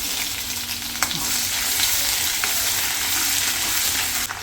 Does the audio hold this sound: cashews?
yes